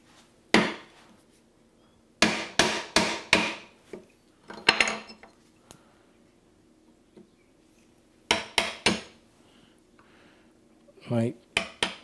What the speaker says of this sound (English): My baselines are ever so slightly wider than the chisel I have here, so I have to come at it a couple hits.